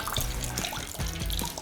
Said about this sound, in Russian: Давайте добавим воды, посмотрим.